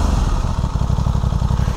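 A 2023 Aprilia Tuono 660 Factory motorcycle engine idles with a lumpy, throbbing pulse and strong airbox rumble, close and loud for a couple of seconds with no talk.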